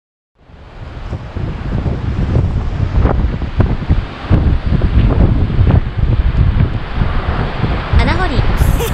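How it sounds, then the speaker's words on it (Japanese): Waves surge and wash onto the shore of Ichinomatsu Beach, Chiba, Japan, in repeated swells while strong sea wind buffets the microphone, loud and close. "それでは波の音聞いてみよう。"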